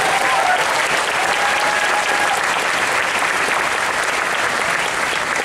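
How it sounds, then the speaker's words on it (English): Loud, dense crowd applause for Disney cast members at a 35th anniversary show at Disney's Hollywood Studios, a sustained wash of clapping with faint whistles from a large outdoor audience. "Let's give them another round of applause."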